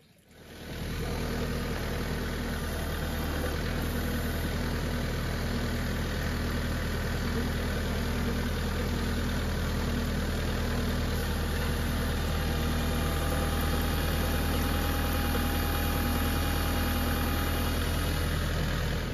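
A heavy tractor engine idles steadily for a long stretch, a low continuous rumble with a faint rattle, close by and unchanging, no talking.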